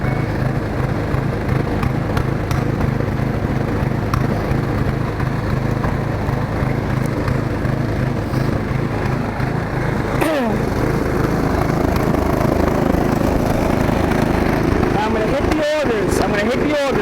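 A snowblower engine runs at a high idle, a loud, steady close drone throughout, with a brief sharper rev partway through.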